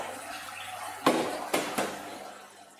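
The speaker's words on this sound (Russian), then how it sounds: "при вас специально наливаю воду, чтобы вы понимали, как это делается." Water is poured into a small incubator for fish eggs in a home aquarium setup: three distinct splashing pours with gurgling in between over quiet room tone.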